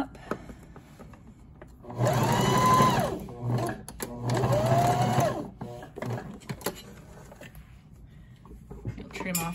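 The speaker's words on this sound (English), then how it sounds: "I'll stitch right along that line where I pinned." A sewing machine stitches a collar onto a memory teddy bear in two loud, whirring runs, each lasting about a second or more. Quieter handling noises fall between and after the runs.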